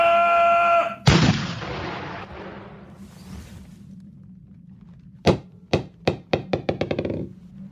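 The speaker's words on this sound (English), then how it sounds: "Now fire across her bow. One shot across the bow!" A ship's cannon fires a single heavy shot across another vessel's bow as a radio drama effect, a booming blast that decays into rumble, followed by a fast series of sharp knocking hits.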